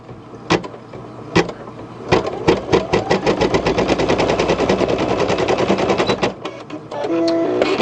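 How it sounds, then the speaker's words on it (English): An embroidery sewing machine stitches a double seam on felt, with a few separate thumps first and then a loud, rapid, steady rattle of stitching that stops abruptly, followed by a short electronic beep. "if you want to do a double seam, just back your machine up and do it again"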